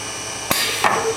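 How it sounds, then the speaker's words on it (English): An automated welder joins the side of a bookcase in a factory, giving two short sharp bursts about a third of a second apart over a steady machine hum. "now we weld the side"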